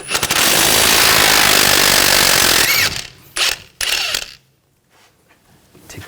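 A 22mm socket drives a nut off a bolt on a 2000-2006 BMW X5 front strut assembly. A loud, close, buzzing power-tool burst lasts about three seconds, followed by two shorter bursts and then near silence.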